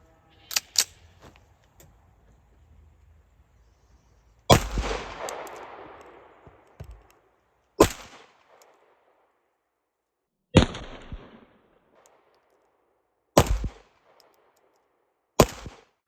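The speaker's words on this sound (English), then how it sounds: "This is just going to be some slow fire with the CCI Blazer ammunition." Slow single shots from an RIA 5.0 pistol firing CCI Blazer ammunition at an indoor range, 7 yards: six sharp, loud reports spaced a few seconds apart, each with a short echoing decay, with no talking.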